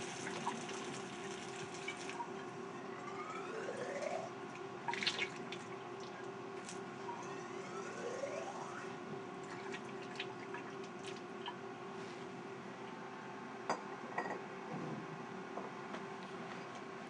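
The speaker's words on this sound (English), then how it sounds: "Since we already used this glassware, I want to be sure I rinse this one out as well." Water runs from a lab tap while used laboratory glassware is rinsed out, a soft steady trickle with swirling gurgles and a few faint clinks of glass, quiet and without talk.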